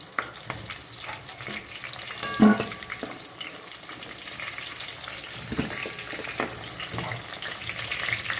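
Onions fry in hot oil with a steady crackling sizzle, punctuated by occasional scraping stirs and louder spits, close up and continuous.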